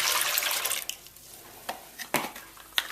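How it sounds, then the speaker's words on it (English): Water poured into a bowl of mung bean batter, a broad splashing wash at first that thins into scattered drips and small sloshes, close and moderately loud with no talking. "So now I'm going to add my 3 cups of water."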